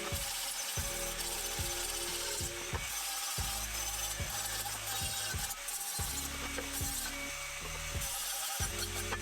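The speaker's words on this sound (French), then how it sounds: "Je vais meuler ça." An angle grinder works over welds on a rectangular steel tube for a BMX snowbike build, a loud continuous grinding whine broken by repeated short pauses and restarts as the disc is lifted and reapplied.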